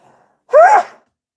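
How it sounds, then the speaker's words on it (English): A single sharp, close sneeze, brief and loud, with near silence before and after. "I've never sneezed on a live before."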